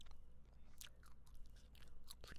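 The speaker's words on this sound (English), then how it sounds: "I am chewing gum." Gum being chewed close to the mic, soft wet smacking and clicking bursts repeating irregularly over a steady low background hum, with no talking.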